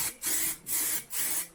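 Spray gun laying down a thick coat of high build primer over etch primer, three steady hissing passes with short breaks between them, close and fairly loud.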